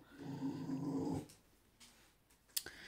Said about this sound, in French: c'est mon chien qui avait envie de grogner.